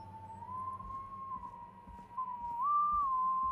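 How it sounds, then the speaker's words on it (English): A man whistles a wavering, sustained tune in the video game Killer Frequency, the melody rising and dipping while a low hum lingers underneath and the whistle swells louder toward the end. "The whistling man."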